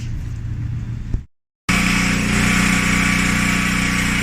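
A clothes dryer, repaired after a no-heat fault by replacing its control board, cuts out into brief silence and then starts up with a steady, close mechanical hum that continues to the end.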